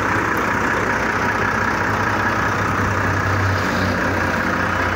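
A Volvo truck, a very large highway rig, idles steadily with a deep, constant engine rumble that stays loud and unbroken throughout, with no voices over it.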